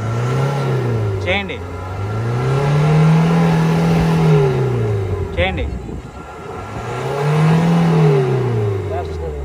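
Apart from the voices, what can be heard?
Ford car engine revving hard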